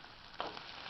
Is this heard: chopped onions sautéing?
yes